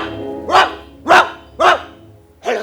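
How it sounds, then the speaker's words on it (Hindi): A dog barks four times in a slow, evenly spaced series, each bark loud and close with no other sound around it. "एक कुत्ता सॉफ्टी से बात करने की कोशिश कर रहा था"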